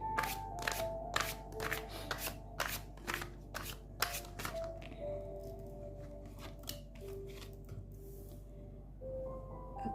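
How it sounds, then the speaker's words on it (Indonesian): Tarot cards shuffled by hand close up, a quick run of crisp riffling flicks and slaps that comes in bursts and then thins out, with a faint steady hum underneath. "saya coba ambil kartunya dulu ya"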